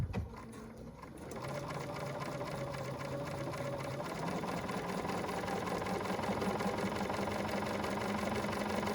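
A BERNINA sewing machine with an edgestitch foot stitches steadily, its motor whirring in a fast, even mechanical rattle after a brief quieter start, close and unbroken with no voices.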